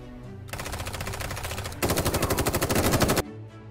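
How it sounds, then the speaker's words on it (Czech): Rapid pistol gunfire in the survival video game The Day Before: two long, dense bursts of evenly spaced shots, the second louder and harsher, with a short quiet gap before and after. "Nelíbily se mi zvuky z té pistole"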